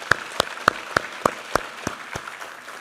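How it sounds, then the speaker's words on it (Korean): A Korean church congregation claps at a Sunday worship service, giving thanks and glory to God, in about ten sharp, evenly spaced beats that ring out clearly in a reverberant hall. "우리 하나님께 감사와 영광의 박수 올려드리겠습니다."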